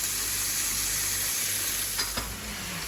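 Steady sizzling of homemade burger patties frying in a hot pan, a continuous close hiss with a couple of brief louder pops.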